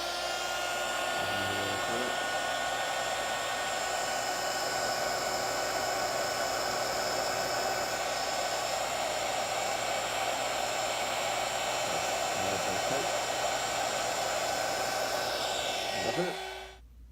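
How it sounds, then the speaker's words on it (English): A mini heat gun blows a steady, loud, even hiss while shrinking heat shrink tubing over soldered wires for an LED third brake light strobe controller, running continuously for most of the clip before cutting off near the end. "I have my mini heat gun right here."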